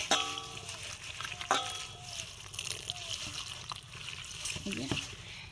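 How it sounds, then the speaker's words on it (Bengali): Water is poured over marigold flowers to soak them, making light splashing and sloshing close by. Voices talk faintly in the background. "জল দিয়ে দিয়েছি এবার কিছুক্ষণ ভিজিয়ে রাখবো"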